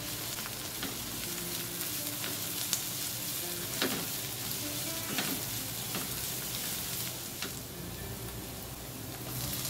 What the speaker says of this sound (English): Then add the pounded garlic and red chilies and saute for a minute and a half